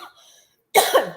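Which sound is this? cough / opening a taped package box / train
cough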